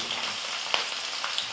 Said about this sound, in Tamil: அந்த பூண்டு சேர்த்துக்கிறேன். பூண்டு நல்லா வதங்கட்டும்.